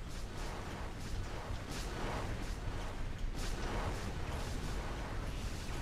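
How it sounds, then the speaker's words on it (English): A large explosion in the mech combat video game MechAssault, a dense continuous rumbling roar with repeated blasts and bursts over a sustained loud low-end bed, no voices. "Oh, big explosion."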